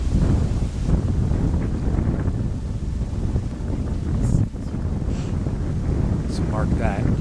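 Strong wind gusts buffet the microphone outdoors in a remote wooded area, a steady low roar that swells and dips over several seconds, with faint voices and brief higher sounds poking through.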